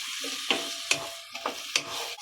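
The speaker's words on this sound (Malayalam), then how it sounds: "നമുക്ക് നന്നായിട്ടൊന്ന് ഇളക്കിയൊന്ന് മിക്സ് ചെയ്യാം." A Kerala-style healthy salad being stirred and mixed in a pan after half a glass of water is added, with a soft sizzle under several sharp scraping strokes of the spoon at irregular intervals, close and moderately loud, no talking.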